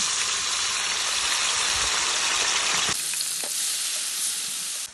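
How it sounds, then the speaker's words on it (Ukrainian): Tomatoes sizzle and spit in generously poured oil in a hot frying pan, a loud, bright crackle that drops sharply to a softer, steady fry partway through. "Ці томатики в гарячу сковороду."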